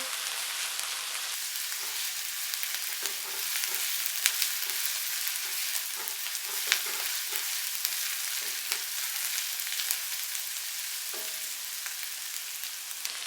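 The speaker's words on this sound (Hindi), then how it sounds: "अब इसमें डालेंगे अदरक लहसुन पेस्ट। 1 मिनट के लिए इसको फ्राई करेंगे।" A steady, close sizzle of ginger garlic paste frying in hot oil, crackling continuously with occasional soft stirring clicks and no voices.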